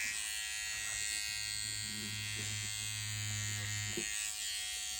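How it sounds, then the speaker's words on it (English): A new electric seam ripper buzzes steadily for a few seconds, then cuts off, and a person talks quietly around it. "I got a new seam ripper, everyone."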